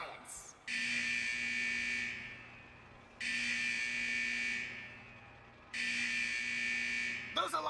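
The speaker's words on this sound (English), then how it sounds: "Those alarms indicate that we're encountering some minor technical difficulties with the fusion press unit." A repeating electronic alarm blares in the World of Warcraft game as the fusion press unit malfunctions, three long steady buzzing tones with short gaps between them, loud and close.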